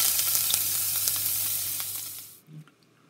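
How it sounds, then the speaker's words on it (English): Garlic and ginger stir-fry in hot oil, a loud close sizzle that fades over a few seconds and cuts off, followed by a brief clunk of the pan. "Our garlic and ginger are in there now, and we're going to give them a good stir fry."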